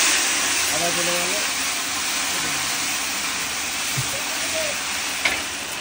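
Ginger goes into a pan of frying mixed vegetables with pumpkin, Malabar spinach and pointed gourd, giving a continuous close, loud hissing sizzle, with faint voices talking briefly underneath.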